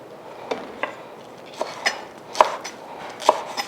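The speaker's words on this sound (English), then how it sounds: "Just a rough chop." Okra roughly chopped with a knife on a board for a green okra stew: a dozen or so sharp taps at an uneven pace, close and moderately loud over a faint background hiss.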